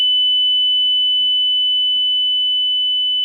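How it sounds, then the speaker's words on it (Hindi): A steady, loud electronic buzzer tone from a Cook's pole climbing apparatus in a pharmacology lab test of a sedated animal, one continuous unbroken beep with faint clicks beneath. "एपरेटस बंद किया, बजर पे प्रेस किया,"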